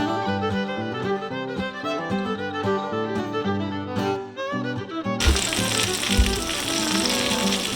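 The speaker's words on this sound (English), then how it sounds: "I'm going to add some more butter to the pan" Butter sizzles in a hot pan while a Reuben sandwich is made, a steady bright crackle that rises loud after a stretch of music and keeps going under it.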